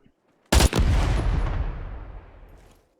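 A large anti-personnel mine in the SCUM game is shot and explodes with a sudden loud blast after near silence, then a long rumbling decay that fades away over a couple of seconds.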